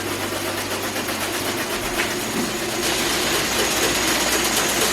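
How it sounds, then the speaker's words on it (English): A thread winding machine at Long Creek Mills runs loud and steady as it winds thread onto spools, a continuous mechanical whir and rattle with no talking. "So we're actually going to get to see them winding thread on the spool."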